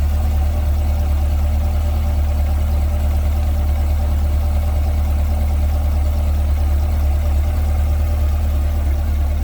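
A 2020 Chevrolet Corvette 2LT Z51 coupe with a 6.2-liter mid-mounted engine and 8-speed automatic idles steadily close by, a deep rumbling burble held at an even level throughout.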